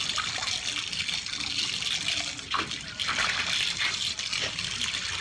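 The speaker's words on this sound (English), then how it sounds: "C would be dogs in a plastic tub getting a hose bath." A hose sprays water into a plastic tub where dogs are being bathed: a continuous hissing gush and splash with a few brief shifts in flow, fairly close and steady.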